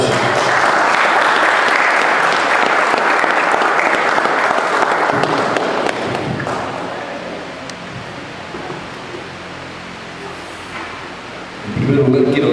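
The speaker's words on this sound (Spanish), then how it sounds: "Fuerte el aplauso." Audience applause for engineer Carlos Ferrari of Electroingeniería ICSA at an electrical service training session for a cooperative in Quilino: loud, full clapping that tapers off after about six seconds, with a voice starting at the end.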